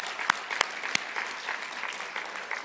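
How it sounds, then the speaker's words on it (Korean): Church congregation applause, including children and youth groups, a full crowd clapping continuously with a few sharp close hand claps standing out early, moderately loud and even. "자, 박수 한번 하겠습니다."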